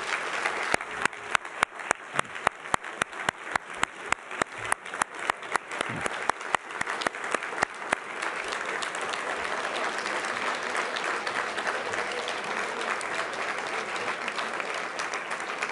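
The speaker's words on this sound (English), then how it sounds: "I'd like to offer one more round of applause for all of these year's honorees" Guests at the Profiles in Courage awards dinner at the Kennedy Library applaud the honorees. A few close, sharp hand claps stand out in a regular rhythm over the thick, sustained clapping of the crowd.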